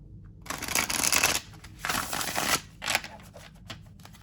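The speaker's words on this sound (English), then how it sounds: "you might find some difficulty in shuffling these cards" Urban Tarot cards are shuffled in three quick riffling bursts, close by and crisp, with brief pauses between them.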